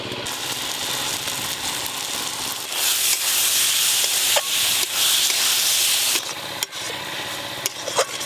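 Ground cashew, poppy seed, melon seed and green chili paste frying in a pan for a Bengali matar paneer, a steady loud hiss and sizzle that swells midway, with occasional clinks of a spoon.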